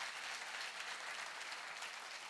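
An audience applauds a speaker's mention of Operation Ganga with dense, steady clapping from many hands at a moderate distance, unbroken by any voice.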